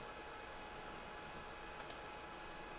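A computer mouse clicks twice in quick succession, faint and close, against a steady background hiss.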